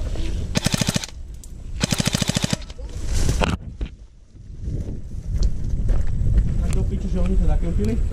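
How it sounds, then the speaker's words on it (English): Airsoft full-auto Glock pistol firing during an outdoor sniper skirmish game: two loud rapid bursts close by, followed by a shorter third burst, then background movement and faint voices. "Time for his full auto Glock."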